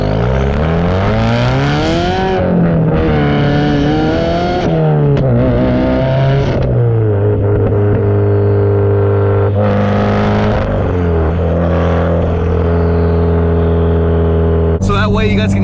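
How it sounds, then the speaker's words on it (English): A loud 400-horsepower sports car exhaust drones while driving, its pitch climbing and falling through several gear changes in a continuous, close, throaty roar. "so that way you guys can hear the exhaust much better"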